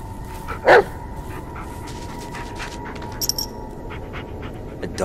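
The dog Bullet in the horror game Blair Witch, inside a cave, gives a single short bark or yip near the start over a low ambient rumble, followed by a faint high chirp later.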